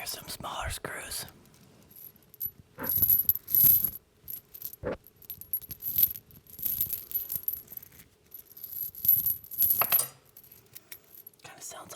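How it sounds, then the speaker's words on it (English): Small metal screws clink and jingle like loose coins, handled close up in short bursts separated by brief pauses, with faint whispering at times. "Here's some smaller screws."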